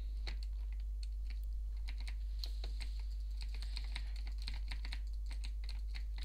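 Fingers tap on a computer keyboard in quick irregular bursts of close, crisp key clicks over a low steady hum.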